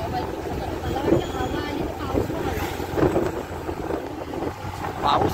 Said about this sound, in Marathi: जोराचा वारा सुटला इकडे आता